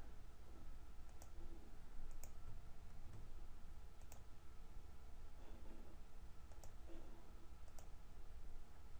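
A few faint, sparse mouse clicks during a computer cut-and-paste, spaced a second or two apart over a steady background hiss.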